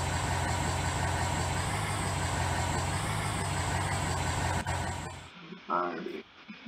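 Ford 6.7 liter Power Stroke turbo diesel truck engine idling in a steady, loud, low rumble for about five seconds, then cutting out abruptly, followed by a brief faint voice.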